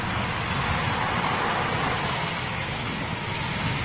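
Eurofighter Typhoon jet engines roar in a steady, broadband rush at RAF Coningsby, loud and unbroken with no distinct peaks.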